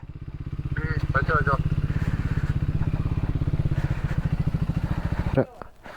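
A motorcycle engine idles loudly up close by a roadside tea stall near Munnar with a steady, rapid thumping pulse, then cuts off near the end, leaving a brief rattle.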